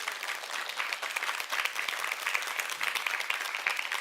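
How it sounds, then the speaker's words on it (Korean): Lecture audience clapping in a hall, a sustained round of many hands at moderate loudness with slight swells, no speech over it. "박수 한번 주세요."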